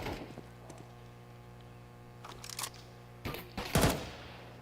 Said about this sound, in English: Shots fired there towards Momo at half wall